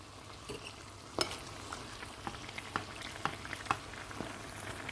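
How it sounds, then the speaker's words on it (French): Beignets fry in oil in a pan with a soft, even bubbling sizzle, quiet and close, punctuated by a series of light clicks and taps from a utensil. "je vais bientôt finir la cuisson des beignets"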